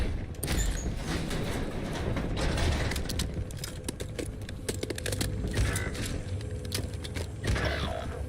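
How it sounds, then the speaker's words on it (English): Magazine reload in a first-person shooter video game, a run of small mechanical clicks and clacks scattered over steady low game background noise, with no voices. "Loading new mag."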